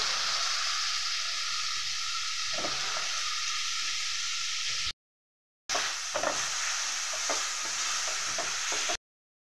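Onion frying in hot oil for a prawn dish, a loud continuous hissing sizzle with occasional scraping stirs, briefly cut off by a short silence before the sizzle resumes.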